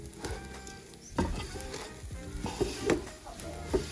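Fried rice with oregano, butter and onion sizzling in a pan as it is stirred, giving a steady close frying hiss broken by irregular scraping and clinking stirring strokes.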